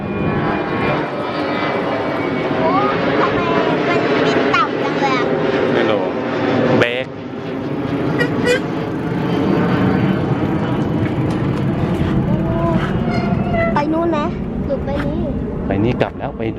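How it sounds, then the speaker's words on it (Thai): Airplane passing overhead during a bicycle ride around a village, a steady drone with a shifting pitch sustained throughout under frequent nearby talk. "โอ้ เครื่องบิน"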